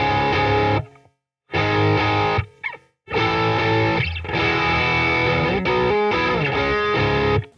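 Distorted electric guitar played through a Universal Audio OX Box with delay, loud sustained chords and phrases separated by brief silent breaks, echoing repeats trailing off, no talking.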